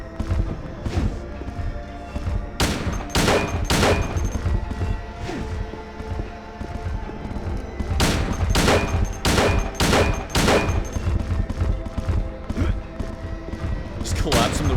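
Shotgun blasts in a video game, with sharp, loud shots in clusters: a few early on, then a rapid run of about five in quick succession, over steady background game noise.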